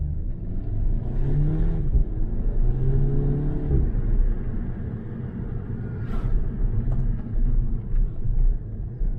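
An Audi S3 accelerates hard in manual mode with paddle-shift gear changes, its engine note rising in a strong interior rumble and dipping briefly between gears, with no talk.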